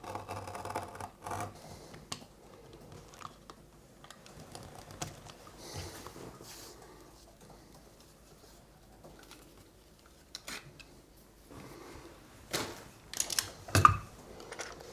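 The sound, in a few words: cutting out a piece of headphone leatherette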